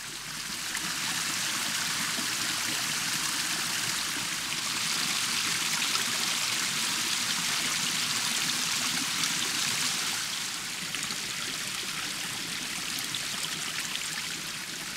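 A mountain stream flows steadily on a forested mountainside, producing a continuous broadband rush and trickle of water, fairly close and unbroken throughout, with no voices.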